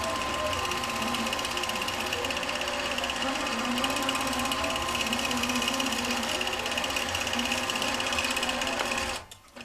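An embroidery machine stitching steadily through dwell points, a loud, fast, even mechanical rattle that runs smoothly without hesitation, then cuts off abruptly near the end.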